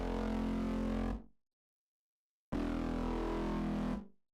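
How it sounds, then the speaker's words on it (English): A processed sample, EQ-shaped to sound like a distorted rock guitar, plays as two loud sustained bursts, each about a second long, with sharp starts and quick fades separated by a silent gap. "so now it just sounds like a rock guitar"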